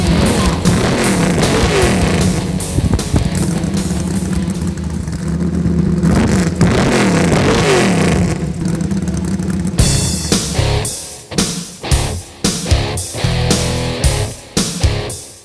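A 1968 Chevelle's engine revs loudly and steadily at a classic car cruise night in Encinitas, with a busy, dense roar that breaks into choppier bursts near the end.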